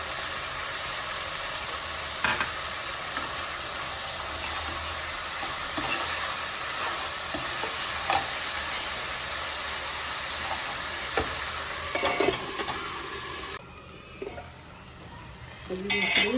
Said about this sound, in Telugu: కొంచెం వేగింది కదా కట్ చేసిన వెల్లుల్లిపాయ ముక్కలు వేసేసుకున్నాం